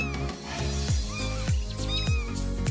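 Mother cat meowing beside her three kittens, a series of short, close meows repeating roughly every half second to second, fairly loud over a soft indoor background.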